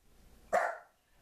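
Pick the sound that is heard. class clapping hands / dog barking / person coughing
dog barking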